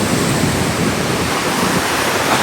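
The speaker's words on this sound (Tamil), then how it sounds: "கடல் அந்த உயர்ந்து வர வேகத்தை பாருங்க." Storm-driven sea waves surge onto a shore in strong wind, a loud, continuous broadband roar of crashing surf with no breaks, close and dominant throughout.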